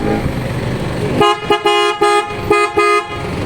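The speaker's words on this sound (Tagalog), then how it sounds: "Subukan natin yung lakas ng horn." A loud Isuzu MU-X car horn fitted with PIAA horns honks in a series of short blasts up close, after a stretch of engine noise.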